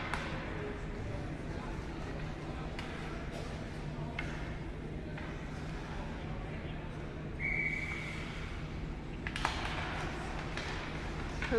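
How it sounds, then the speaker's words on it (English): A short, bright referee whistle blast at an ice hockey game between Proctor and Hibbing, called for icing during a power play. It rises briefly above steady arena crowd murmur and rink noise. "That was a cute little whistle."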